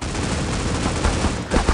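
Rapid automatic AK rifle fire in the mobile shooter Critical Ops, a continuous dense burst of gunshots lasting nearly two seconds with a few louder cracks near the end, no talking.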